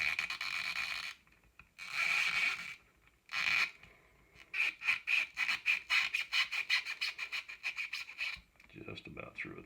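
Hand sanding or rasping a wooden Tennessee handle, a dry scratchy rubbing heard in several short bursts, then a run of quick regular strokes, close and fairly loud.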